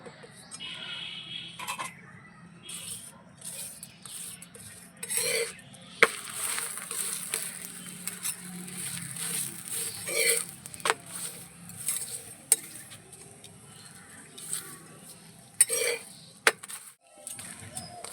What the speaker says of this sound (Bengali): পরোটার মধ্যে আমি ঘি দিয়ে দেব ঘি দিয়ে ভেজে নেবো